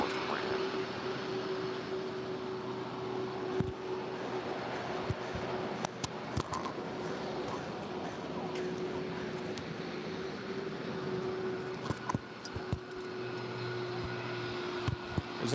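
A Boeing 747 taxis on a taxiway at LAX, a broad steady engine roar with a faint whine, heard from a distance amid airport ambience.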